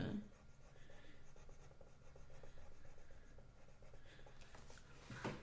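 A coloring tool rubs steadily across the fine, small areas of a stained-glass coloring page, producing a faint, close, continuous scratchy scribbling sound.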